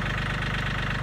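A tractor engine idles steadily up close, a loud continuous low rumble with a regular pulsing beat and no voices.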